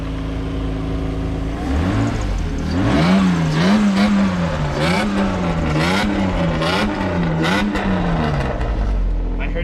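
An old Mercedes engine cranks and catches, then revs up and down in repeated swells at close range before dropping off near the end, with people talking over it.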